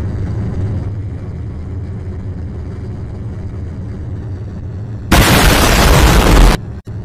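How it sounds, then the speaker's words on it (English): A bomb drops and explodes in a video game, a sudden loud broadband blast lasting over a second that cuts off abruptly, following steady engine-like game rumble. "Drop bomb."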